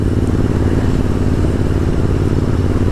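Royal Enfield Interceptor 650 motorcycle riding on the road, a steady, loud low engine drone and road rumble holding constant throughout with no speech.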